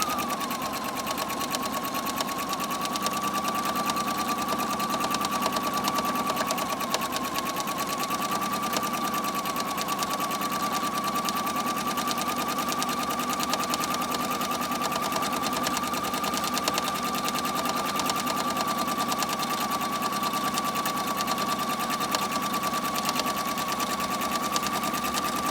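A sewing machine runs steadily, stitching forward through a DIY Bible cover without back stitching, a continuous close whirring hum that holds an even pitch for the whole stretch, with no talk over it.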